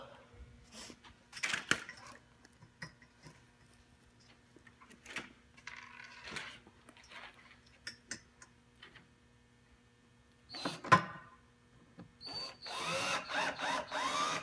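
A screw gun drives screws into wood during table assembly: short, close bursts of motor whir and clicking ratchet, separated by pauses with small taps and knocks, ending in a longer, louder run of driving.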